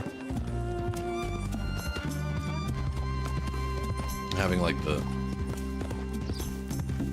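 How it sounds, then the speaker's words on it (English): Horse hooves clip-clop in the video game Red Dead Redemption 2, a steady, even stepping rhythm beneath continuous talk and a musical soundtrack with sustained tones, a brief louder burst of speech near the middle. "stepping of the clop clop of the horse"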